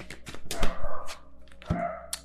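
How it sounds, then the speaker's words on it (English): Several dogs bark and yip in sharp, irregular bursts at moderate volume, with one hard, punchy bark standing out in the second half. "My dogs, I don't know what to do with them."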